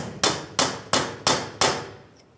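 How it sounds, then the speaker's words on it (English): Five sharp metallic blows of a hammer and punch on the axle of a 2010-2013 Ford Transit Connect land in a steady rhythm, each ringing briefly before the next strike, close and loud. "continue on with a hammer and punch"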